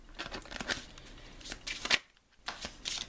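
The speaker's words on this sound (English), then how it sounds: "I'm going to shuffle the deck and just take whatever random one." A deck of cards is shuffled up close in several quick riffling bursts, crisp papery flutters with a short pause before the final riffle.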